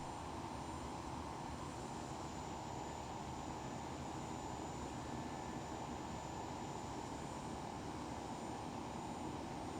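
A DHC-6 Twin Otter taxies in X-Plane 11, its turboprop engines giving a steady, faint, droning whine with a thin high tone above, unbroken throughout and without talk.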